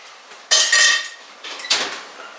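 Sausages are turned in a metal frying pan while browning, with two bursts of clattering, scraping utensil-on-pan sounds, close and fairly loud, with no talking.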